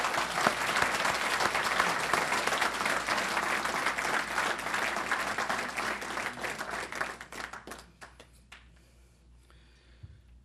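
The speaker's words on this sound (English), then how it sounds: "I ask for a round of applause for all our worthy recipients." An audience at a civic awards night applauds the recipients, dense clapping that thins out and fades to a few scattered claps by the end.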